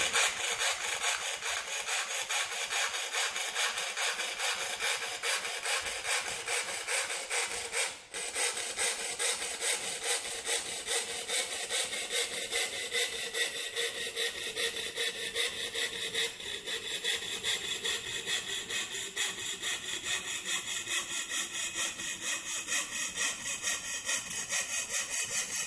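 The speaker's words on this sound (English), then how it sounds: "I'm now going to place this metal into the the bench vise and cut the curve at the hole." Curve-cutting snips chew steadily through thick sheet metal clamped in a bench vise, a continuous close, gritty rasping scrape that runs unbroken for the whole stretch with one brief pause.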